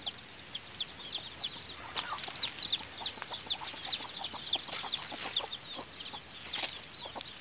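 Country chickens in a poultry cage cluck and chirp in a busy overlapping chorus, many small birds calling repeatedly at close range over a steady low hiss.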